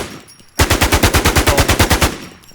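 An automatic gun in the video game Infestation fires a loud, close burst of about sixteen rapid evenly spaced shots, following a quiet moment.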